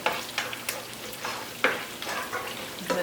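Sofrito frying in a pan for a Puerto Rican dish: a steady close sizzle with occasional stirring scrapes and clinks, no talking.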